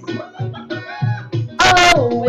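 A person imitates a hen clucking with a series of short, rhythmic voiced clucks, close and fairly loud, ending in a brief higher squawk.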